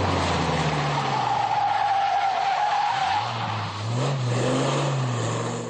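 Race cars roar past at over 200 km/h on a circuit in the Ardennes, engines droning loudly with tires skidding, then a second car revs up and passes close by.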